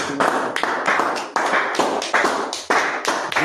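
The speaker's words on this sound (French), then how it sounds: "il faut le claquement des doigts" Finger snapping at a church worship gathering, a group snapping together in a steady rhythm of sharp, loud cracks spaced about half a second apart, with no talk over them.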